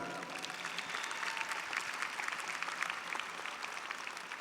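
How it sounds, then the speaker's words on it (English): A large crowd applauds at a college commencement ceremony, with continuous, fairly distant and moderately quiet clapping throughout. "yes, please applaud that"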